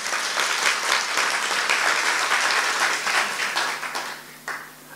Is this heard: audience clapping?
yes